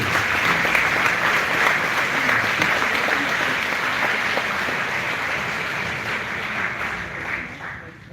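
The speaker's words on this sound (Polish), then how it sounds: "dajmy jeszcze raz ogromne brawa tym, którzy weszli wczoraj" Sustained applause from a live audience, a dense wash of many hands clapping steadily at moderate volume, tapering slightly in the final seconds.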